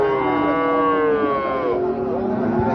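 A cow moos loudly and close at a cattle market in Wirosari, a long drawn-out bellow over steady crowd murmur and background noise.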